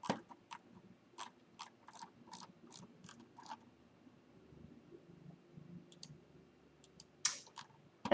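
A thin cut being made out of a tube during a high-powered rocket build: a series of small, sharp clicks in quick succession, then a pause and a louder crisp burst near the end, close and fairly quiet over a low background hum.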